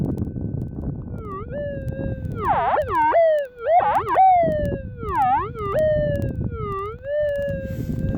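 A metal detector giving a loud warbly signal over a gold nugget in the field, rising and falling wavering tones over a hissy background, close and continuous.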